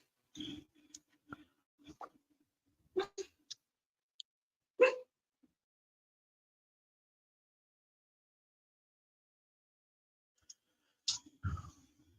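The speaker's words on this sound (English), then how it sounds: "Stop barking, you." A few short, quiet dog barks and yips come in scattered bursts, separated by long stretches of near silence.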